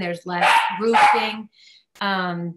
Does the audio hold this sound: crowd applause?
no